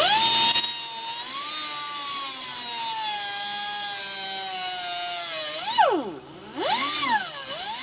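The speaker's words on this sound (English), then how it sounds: "I grind it all at a slight angle just to make sure I don't go straight into it" A high-speed rotary tool grinds a barb fitting on a leaking power steering line, a loud close whine that holds steady, then sweeps down and back up twice as the tool is loaded and eased off.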